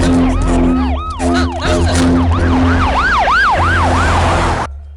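An ambulance siren wails up close and loud, its rising-and-falling tone cycling repeatedly over a steady engine rumble before it cuts off abruptly near the end.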